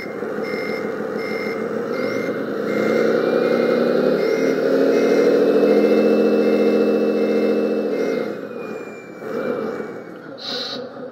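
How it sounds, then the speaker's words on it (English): Repeated electronic reversing beeps from an Orlandoo Hunter OH32T01 Scania model truck ring out evenly over a steady truck-like engine hum. The engine swells for a while in the middle, then drops away near the end. "if you reverse, you can hear the reversing beep as well"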